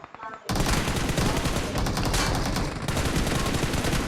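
Rapid, dense bursts of PUBG Mobile gunfire break out after a quiet start and keep going almost continuously at close range.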